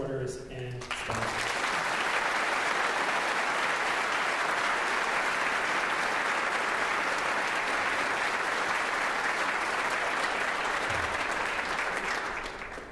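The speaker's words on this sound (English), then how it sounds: "please join me in a round of applause for all of our supporters and sponsors" Sustained, dense applause from a large concert audience honoring supporters and sponsors at the AWS 2023 gala concert, rising quickly after a brief voice and holding steady and loud throughout.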